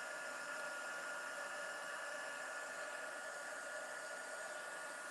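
A craft heat tool set for embossing blows hot air in a steady, close, continuous whoosh with no pauses and no talking.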